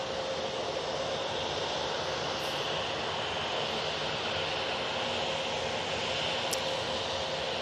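A TUI airliner departs Manchester Airport bound for Verona, a steady, broad jet roar filling the air at moderate distance without a break.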